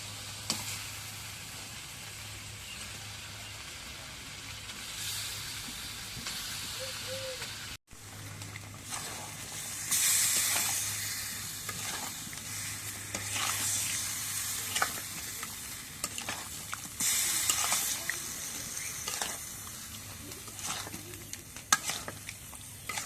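Pangas fish pieces go into a reddened spice paste frying in a pan, setting off a steady close sizzle that swells louder after a brief cut, with occasional stirring scrapes and bubbling pops throughout.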